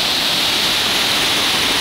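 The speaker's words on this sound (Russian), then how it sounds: "Тут на каждом шагу водопады." Mountain waterfall in Kintrishi National Park in the Adjara mountains, a loud, dense, unbroken roar of falling water heard up close, steady throughout.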